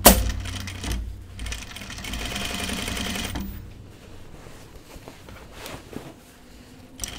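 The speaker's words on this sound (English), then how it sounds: "Just need to sew a little bit." A home sewing machine runs steadily while stitching a pair of men's pants near the pocket, a fast even whir for about three seconds, followed by quieter handling noises.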